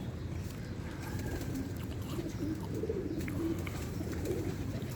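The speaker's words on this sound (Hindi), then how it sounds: "मीडियम से वजूद की कबूतरी है।" A medium-sized dub-type female fancy pigeon coos softly in a loft, with low, steady throaty murmurs under a constant background hum.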